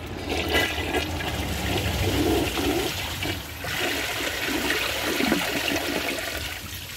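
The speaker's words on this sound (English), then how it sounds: "let's give it a flush" A 2001 Kohler Wellworth toilet flushes, a strong rushing swirl of water that dips briefly midway and then surges again as the bowl drains and refills, close and loud.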